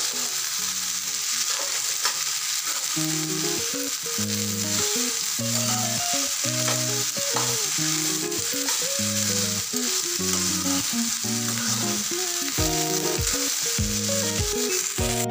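Okra (bhindi) frying in a pan until reddish, a continuous bright sizzle running underneath a steady melodic music track, with no voices throughout.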